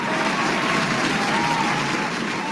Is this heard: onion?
no